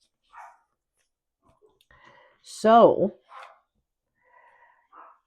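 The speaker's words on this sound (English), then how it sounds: "Sorry about the dogs barking." A dog gives one loud, fairly close bark in an otherwise quiet indoor setting. Brief spoken fragments and faint noises come before and after it.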